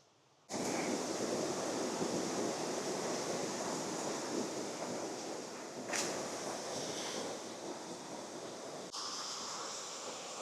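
A waterfall at the end of a scenic trail in the North gives a steady, close rushing roar that fills the whole stretch with little change and no voices.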